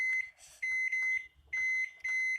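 A microwave oven timer gives a string of short, sharp electronic beeps as it is set to two and a half minutes for baking a cheese burst bread pizza at home. The beeps are loud and close, with brief gaps between them.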